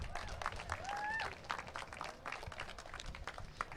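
An audience at a longboard surfing event in Malibu gives a round of applause, a faint, distant spread of clapping that carries on throughout, with a few louder claps and some crowd noise.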